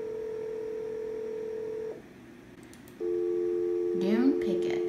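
Telephone tones in the Nancy Drew game Treasure in the Royal Tower, with a steady electronic tone that cuts off briefly before a second steady tone returns, overlaid by a short burst of speech near the end.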